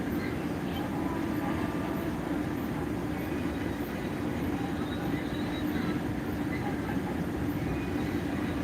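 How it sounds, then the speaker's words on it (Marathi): A Pune local train rumbles into platform four with a steady, heavy low roar and faint rail clatter, continuous throughout. "व्हीपी लोकल पुणे की समय में प्लेटफॉर्म क्रमांक चार पर आई है"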